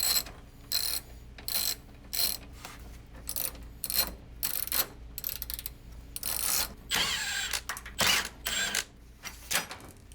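Hinge bolts on a garage door are backed out with a ratchet, producing repeated short bursts of mechanical ratcheting clicks with brief pauses between them, close and fairly loud.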